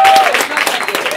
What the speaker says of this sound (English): Clap only for the game you want to see.